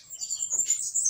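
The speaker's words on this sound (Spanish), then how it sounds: "una lúgano, una jilguera y el cardenalito, subidos en la jaula." Small caged finches, a siskin, a goldfinch and a red siskin, chirp and twitter in bright, high repeated notes close by, with no voices.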